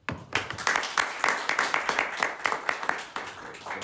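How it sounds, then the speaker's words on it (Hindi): A church congregation claps at a Hindi worship service, brisk rhythmic applause with distinct individual hand claps, near and fairly quiet, running steadily with a brief lull before resuming. "आइए जोरदार तालियां बजाएं।"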